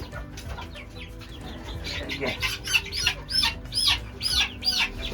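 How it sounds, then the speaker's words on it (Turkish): Several loud rooster crows and squawks repeat close by in a chicken coop, mixed with clucking chickens and a faint voice in the background. "Evet bu horoz."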